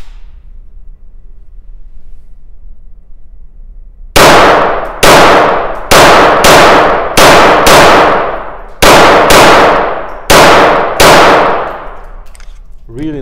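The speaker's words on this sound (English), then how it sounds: "Really nice gun to shoot." A KMR S-02 .22LR pistol fires nine sharp, loud shots in an uneven string, each crack ringing out briefly over a steady low outdoor hum.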